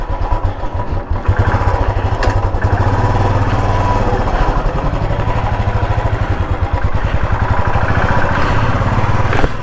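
An old Royal Enfield Electra Bullet 350 single-cylinder engine runs close to the microphone with a steady, loud, rapid thumping beat that holds evenly from start to finish.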